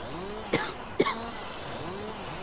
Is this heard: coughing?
yes